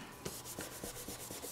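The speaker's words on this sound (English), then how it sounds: "take that same little towel and just wipe off any of the green ink" A small towel rubbed hard over an embossed rubber stamp image to wipe off green ink, making several short scrubbing strokes in a steady rhythm, close and fairly quiet with no talk.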